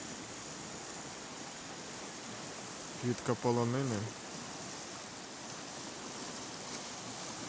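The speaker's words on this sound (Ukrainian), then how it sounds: "Річка Піня." The Pinya river near Solochyn village in Zakarpattia's Svaliava district rushes with a constant broadband hiss of flowing water, and a voice speaks briefly over it.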